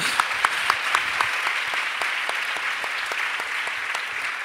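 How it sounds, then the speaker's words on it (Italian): Applause from a live audience at an Italian public talk on prisons: dense, steady clapping from many hands, loud and sustained throughout, with no speech over it. "non volevo neanche interrompere l'applauso suo"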